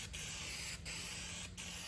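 Graffiti remover aerosol sprays in three short hissing bursts separated by brief pauses, a close, bright spray sound heard alone.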